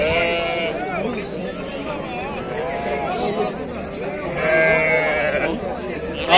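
Lambs bleat repeatedly at an outdoor sheep market, their wavering cries loud and close over a constant murmur of people chatting and bargaining nearby.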